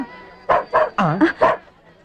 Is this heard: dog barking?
yes